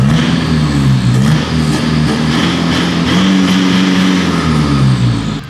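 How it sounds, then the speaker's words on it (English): A vehicle towing a trailer pulls up nearby, its engine droning loud and steady with slight rises and falls in pitch before cutting off abruptly at the end. "Bloke with a trailer has arrived"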